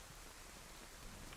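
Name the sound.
rain in the video game DayZ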